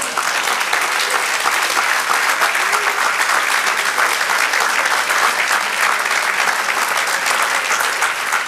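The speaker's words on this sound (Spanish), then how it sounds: "Un aplauso al Señor." Loud, dense applause from a church congregation during worship, steady and unbroken throughout with a faint hint of voices beneath.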